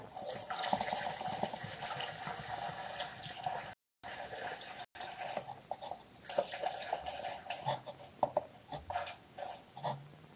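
Petrol poured from a container through a funnel to mix two-stroke fuel for a Parkside PBBPS 700 A1 leaf blower, a steady close liquid trickle and gurgle running through most of the stretch with brief breaks.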